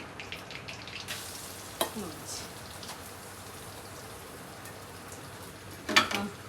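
Cumin seeds fry in a pan with a faint, continuous crackling sizzle, broken by a couple of louder clinks or spoon scrapes partway through.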